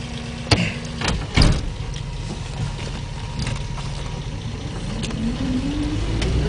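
A Scout's engine runs steadily in four-wheel-drive low with a continuous close rumble. A couple of sharp knocks come early, and the engine note rises toward the end.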